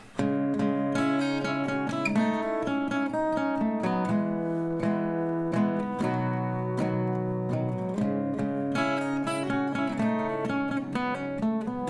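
Strummed and picked acoustic guitar chords of a song at a moderate tempo, a steady flow of bright notes played close with no talking.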